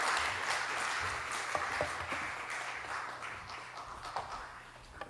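Applause from a church congregation after a small-group report presentation at a celebration event, a steady wash of clapping that holds for several seconds with no voices over it.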